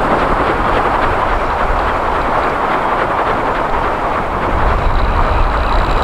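An axial flux wind turbine spins in the open, giving a loud, steady broadband whooshing roar that barely changes across the few seconds, with no voices.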